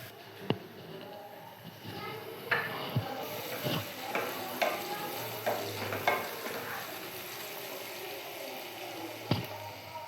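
Onions sautéing in oil for an amudi fish curry, a steady sizzle broken by repeated scrapes and clinks of a spatula stirring the pan, close and fairly loud.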